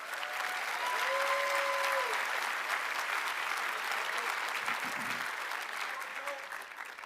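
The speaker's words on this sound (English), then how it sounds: "Let's give our two award winners another round of applause." A commencement crowd applauds its award winners, dense clapping that holds steady for several seconds, with scattered voices audible within it.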